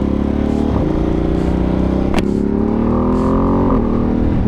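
2025 Ducati Panigale V2S with a full Termignoni exhaust, its engine loud and close as it revs up and down through rising and falling pitch sweeps, with a sharp crackle midway and no voices.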